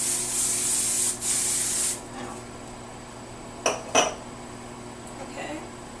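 Two hissing bursts of hairspray sprayed onto hair, close and loud, followed by a few light clicks and clatters of handling.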